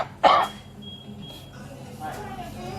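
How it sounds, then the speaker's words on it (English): A single sharp cough from a man with a persistent bad cough, one loud, close burst near the start followed by quieter room sound. "Got a bad cough. I can't get rid of it."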